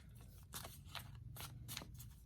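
Tarot cards being shuffled by hand, soft papery riffles and slides in several short bursts, close and quiet with no talking.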